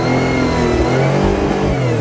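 A car engine revving hard toward redline on a farm, a loud, steady high-revving roar with rising and falling pitch that holds for the whole moment.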